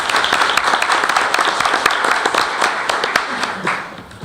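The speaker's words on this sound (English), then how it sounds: "Let's give them a round of applause." Applause for award winners at a school board meeting, a room of people clapping with distinct individual claps audible, steady and fairly loud before tapering slightly at the end.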